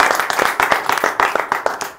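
Loud clapping from a studio audience on a Bangladeshi quiz game show, rapid overlapping hand claps forming a steady burst of applause throughout, close and bright.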